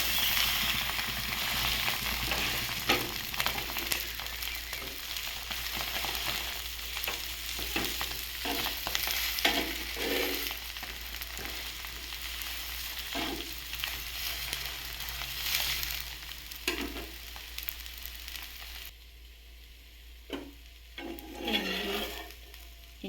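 An egg dosa fries on a hot pan with a constant sizzle, broken by scraping and turning noises from a spatula, and the sizzle eases somewhat toward the end with no voices.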